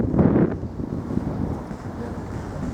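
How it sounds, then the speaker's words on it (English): Gusty wind buffets the microphone in low, rumbling blasts at Lancaster Castle, strongest at the start and then easing into a steady roar. "It's very windy around this bit"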